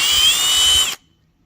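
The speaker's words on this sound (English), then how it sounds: "I'm going to blow it out." Compressed air blasts loudly from a nozzle to clear old gasket material out of a hole in a K-series engine timing cover, a steady hissing rush that cuts off abruptly just before the end.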